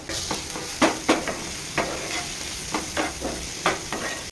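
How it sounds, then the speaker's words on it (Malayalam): Tomatoes sautéing in a pan for a brinjal chammanthi, a low sizzle broken by repeated sharp scrapes and taps of a spoon stirring close by, no talk. "നമ്മൾ തക്കാളി ഒന്ന് ചെറുതായിട്ടൊന്ന് വഴന്നിട്ടുണ്ട്"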